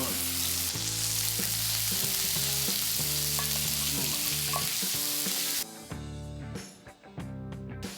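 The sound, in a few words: firm tofu frying in olive oil in a pan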